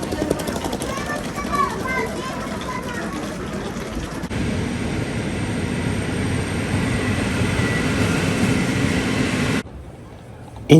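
A train rumbles steadily and loudly for about nine seconds, with broad mechanical noise and clattering, then drops away sharply near the end as traffic continues outside a refugee center in Poland.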